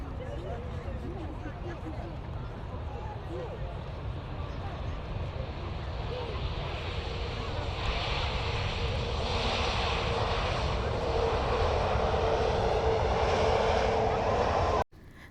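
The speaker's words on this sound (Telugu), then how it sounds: "ఈ ఫ్లైట్ ఇప్పుడే ల్యాండ్ అవుతుంది." A loud, steady roar of a jet airplane engine that swells gradually as the aircraft comes in to land, lasting throughout before cutting off abruptly.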